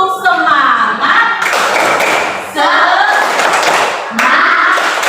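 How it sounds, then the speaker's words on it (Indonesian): A group doing rhythmic spirit clapping in a teachers' coaching session, loud bursts of patterned claps in several sections, with voices chanting between and over them. "Tepuk semangat."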